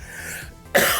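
One sharp cough from a person with a cold, a single abrupt burst breaking a quiet moment near the end.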